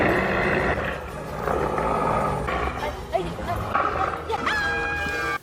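A huge junkyard dog from the film The Sandlot barks and growls loudly and continuously, with yelps and whimpering tones mixed into a dense, rumbling soundtrack.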